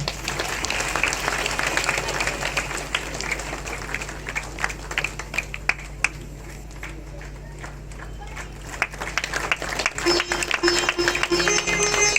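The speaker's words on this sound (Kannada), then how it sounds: "ಎಲ್ಲರೂ ಚಪ್ಪಾಳೆಯನ್ನು ತಟ್ಟಬೇಕು" Audience applause at a Kannada stage drama event honouring Dr. Rajkumar, steady clapping from a crowd lasting throughout, moderately loud with a busy, dense texture and a few sharper claps near the end.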